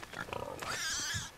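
A pig squeals and grunts in Sea of Thieves, a short run of choppy oinks rising into a long loud squeal, with a faint voice in the background.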